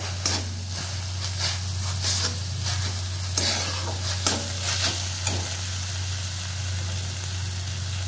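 Ginger garlic paste being sautéed with onions in a pan for a tomato bhaji, giving a steady close sizzle and frying hiss with scattered stirring scrapes throughout, no talking.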